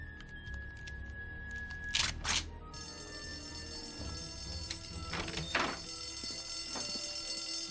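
An indoor fire alarm goes off and keeps up a steady, sustained electronic tone. A few sharp thuds and clicks are heard before and alongside it.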